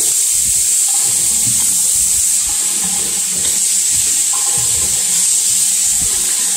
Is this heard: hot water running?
yes